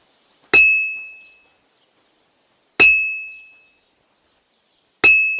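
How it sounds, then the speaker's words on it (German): Hammer strikes on an anvil while forging a horseshoe at a blacksmith's forge in Kingdom Come: Deliverance 2, three loud ringing clangs spaced about two seconds apart, each with a bright metallic ping that decays into silence. "Es dauert ewig, so ein scheiß Hufeisen zum Schmieden"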